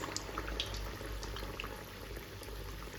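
Medu vada batter rings deep-frying in oil over medium heat, a steady, dense bubbling hiss with scattered small pops that continues evenly throughout.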